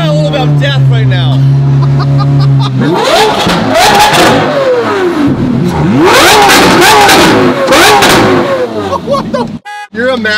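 A twin-turbo Ferrari F12 engine revs hard several times, roaring up to about 8000 RPM and dropping back, loud and close, with people talking and cheering around it.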